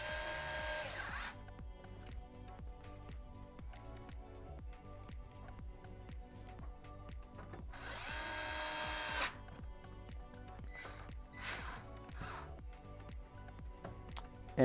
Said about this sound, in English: Flip it on the back side, and you're gonna screw in the last two screws.